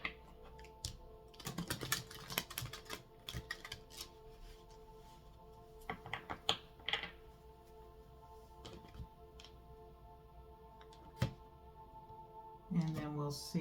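A deck of tarot cards being shuffled produces soft riffling and tapping bursts, some clustered and some isolated, fairly quiet against a faint background hum.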